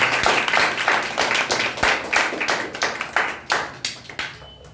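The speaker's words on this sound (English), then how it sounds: "Well, clap for you." Scattered clapping from an audience at a talk, a steady flurry of close, sharp hand claps that gradually thin and fade toward the end.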